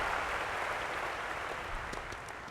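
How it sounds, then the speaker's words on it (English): A crowd applauds in a continuous, even wash of clapping that fades slightly toward the end, with no speech over it. "wow, there's even applause."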